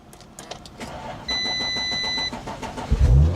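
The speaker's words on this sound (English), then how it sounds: "It starts and it runs, and she sounds sweet." Audi RS4 cranks with an electronic chime sounding, then the engine catches at the end with a loud, close, low rumble that swells as it fires up.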